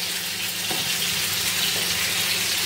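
Food frying in a pan in a home kitchen gives a steady, broadband sizzle and hiss that runs continuously and fairly close throughout, with no talking over it.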